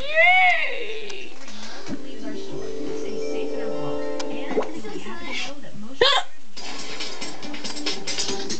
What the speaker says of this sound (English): No, listen to my hiccups.